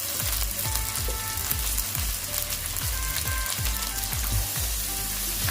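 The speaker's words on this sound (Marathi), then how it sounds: "आता आपण याला मस्त फ्राय करून घेऊया." Spring onion greens and half a tomato frying in a pan for a Manchurian recipe, a loud continuous crackling sizzle with a rhythmic series of spatula strokes or pops running through it, close up, no voices.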